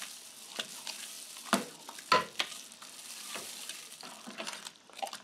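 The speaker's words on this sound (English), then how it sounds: "Okay, so all that oatmeal is stirred in." Oatmeal is stirred into a thick, warm blueberry whiskey mash in a pot, producing soft, irregular scrapes and wet sloshes with scattered sharper knocks from the spoon, all fairly quiet and close.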